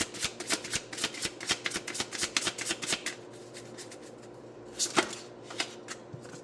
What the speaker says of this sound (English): pulling a card from my Oracle deck to center us